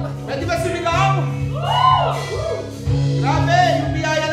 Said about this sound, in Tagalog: Pwede ba sumigaw?